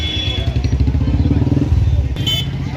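A motorcycle engine rumbles steadily nearby at a roadside vehicle check, with its rhythmic throb running under people talking, and a brief clatter near the end.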